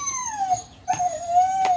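A Dalmatian-like dog whines and howls in a long, wavering high cry, close and fairly loud, with a short break partway through.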